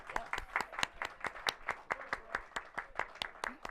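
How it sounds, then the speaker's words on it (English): A small group claps at a Gabrielino Band of Mission Indians gathering in El Monte, a sparse run of individual sharp hand claps in a loose, steady rhythm, fairly quiet and close, with no talking over it. "Round of applause."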